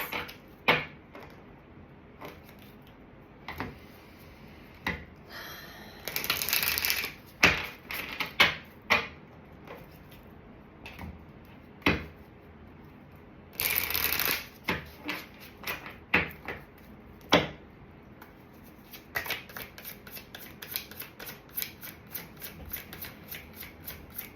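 Shamanic healing oracle cards are shuffled close up in long runs of soft riffling taps and flutters, with a couple of louder ruffled bursts and brief pauses, alone without talk.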